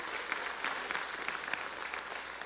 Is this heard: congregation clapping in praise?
yes